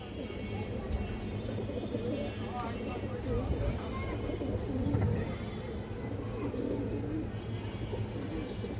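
Pigeons coo in a low, repeated burble among fancy coloured breeds, blending with a background of other birds and faint chirps, while someone talks throughout.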